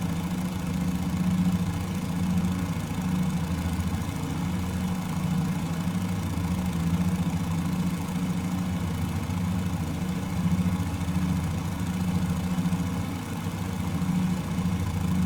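Fokker F VII aircraft engine in Microsoft Flight Simulator, a steady low droning hum with a constant vibrating throb, loud and unbroken throughout, with no talking.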